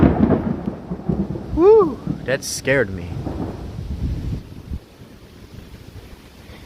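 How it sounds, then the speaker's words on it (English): Thunder from a nearby lightning strike in an evening thunderstorm rumbles loudly, with wind buffeting the microphone; a person exclaims and talks through it before the rumble fades. "Whoa, another lightning strike just happened right over there."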